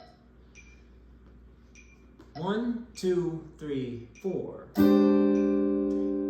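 A guitar chord is struck and rings out loud and sustained, following a man counting beats aloud, with faint ticks in the quiet background before the count.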